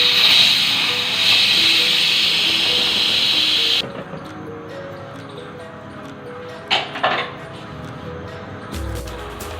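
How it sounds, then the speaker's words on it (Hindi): A pressure cooker cooking beef qeema on a stove gives a strong, steady hiss of escaping steam for about four seconds, then the hiss stops abruptly, leaving quieter kitchen clatter and a few faint knocks. "अब हम प्रेशर बंद करेंगे और इसको 10 मिनट के लिए चलाएंगे।"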